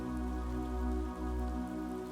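Steady rain patters on puddles and the ground on a rainy day, a soft continuous wash of droplets with a low rumble beneath, heard alone without voices.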